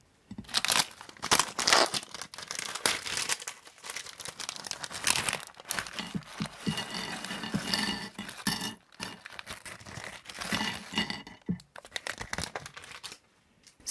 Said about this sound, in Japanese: それではこれから開封してみようと思います